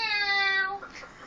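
A hairless cat gives a single clear, drawn-out meow up close, tapering off into quiet room noise.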